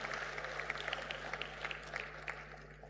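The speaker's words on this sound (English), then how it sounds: "A very big hand clap" A conference audience at a national safe motherhood event claps, a steady spread of scattered handclaps over a low hum, faint and continuous without words.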